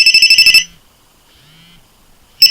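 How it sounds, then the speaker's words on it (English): An iLuv SmartShaker vibrating alarm beeps loudly in a rapid burst of electronic pulses, falls silent apart from a faint low buzz of vibration, then starts ringing again. "There we go, just like a phone ringing, and it's vibrating."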